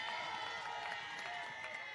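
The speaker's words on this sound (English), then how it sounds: "Give him a round of applause." A crowd at an outdoor public political meeting in Cleverly Hill, Sandy Point, St. Kitts, applauds and cheers faintly from a distance, a thin, steady patter under a held musical tone.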